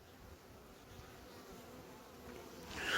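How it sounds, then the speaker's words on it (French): Honeybee near a hive in an apiary, a steady close insect buzz droning throughout, growing a bit louder toward the end as it lifts off. "Là, elle sort une abeille"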